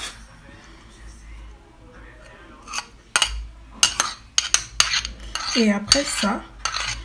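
Carrot being stirred into a blend of olive and sunflower oil, giving scattered clinks and scrapes of a utensil against a dish that grow busier toward the end, with a person speaking briefly at the start.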